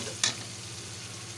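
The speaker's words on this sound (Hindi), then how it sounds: "देखें, हमारा ज़बरदस्त मसाला फ्राई हो चुका है" A spice masala for a chicken dish fries in a pan with a soft, steady sizzle, broken early by one brief sharp scrape or clink.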